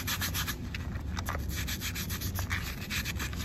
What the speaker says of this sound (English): we're gonna get a brush and we're gonna scrub the top of that battery really good to get all that acid off